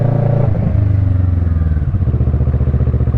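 A motorcycle being ridden, its engine throbbing loud and close with a steady, pulsing beat that shifts down in pitch partway through, with no talk.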